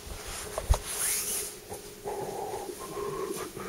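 A dog whimpers softly in short, faint whines, with a sharp thump near the start and low rustling throughout; no one speaks.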